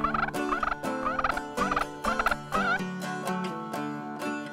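A wild turkey tom gobbles in spring, a clear run of rapid, rattling gobbles repeated in quick bursts, close and loud with no other sound.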